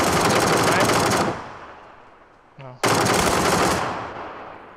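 Automatic gunfire in a first-person shooter game: a long, loud sustained burst cuts off, then after a short quiet gap with a brief small sound, a second loud burst follows and fades away.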